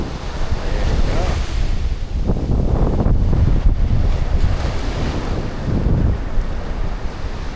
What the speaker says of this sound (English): talk about the waves, how noisy it is